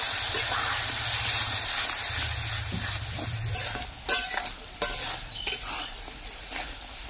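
A spoon stirs whisked curd into fried spices in a pan with soft sizzling, followed by a few scraping strokes and light clinks against the metal.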